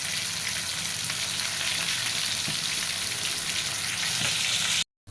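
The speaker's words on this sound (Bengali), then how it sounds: "এই তেলাপিয়া মাছটা একটু নরম ছিল, যার জন্য এটা একটু কড়া করে ভাজি করে ভুনা করব।" Soft tilapia fish pieces crisp in hot oil with a dense, loud, unbroken sizzle close up, cutting off abruptly just before the end.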